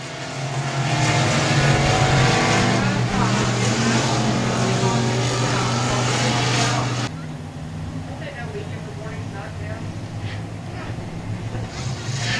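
Race cars roar loudly around a dirt oval at Sabine Speedway, a dense continuous engine drone that drops in level partway through, with an announcer talking over it.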